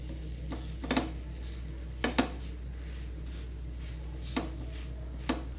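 Beetroot parathas roasting with oil in a pan, a low steady sizzle broken by several sharp metallic scrapes and taps of a spatula at irregular intervals, no one speaking.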